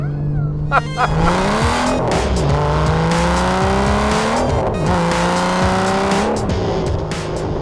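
A 2009 Aston Martin DBS with a naturally aspirated 6-litre V12 and manual gearbox, loud and close as the engine revs climb and drop through repeated gear changes.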